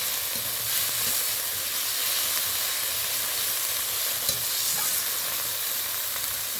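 Katla fish curry sizzles steadily in hot oil in a pan while being stirred, a dense, even frying hiss lasting throughout with no voices.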